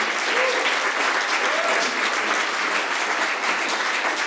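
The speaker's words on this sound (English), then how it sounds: "a round of applause, please, to Michelle and the volunteers" Sustained applause from a conference audience for the weekend's organiser and volunteers, a loud, even wash of many hands clapping throughout with no pauses.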